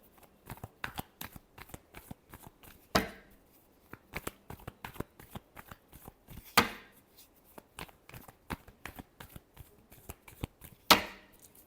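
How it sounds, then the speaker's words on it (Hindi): Tarot cards are shuffled by hand in quick, crisp riffles and slaps, repeated in bursts with a few louder snaps at intervals, close and quiet with no talk. "Last shuffle."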